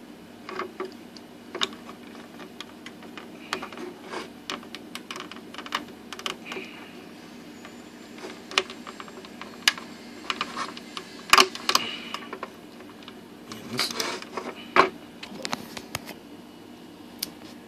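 Plastic power and reset buttons on a Nintendo 64 top shell click and snap as they are handled and pressed into place, a scattered series of sharp, close ticks and clacks over a quiet background.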